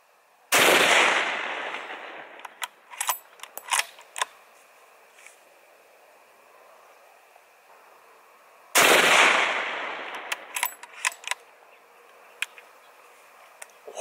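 Two loud, close rifle shots from a Remington 783 firing Winchester 150 grain soft points into jugs, spaced about eight seconds apart, each with a long decaying echo followed by scattered clicks and clatter.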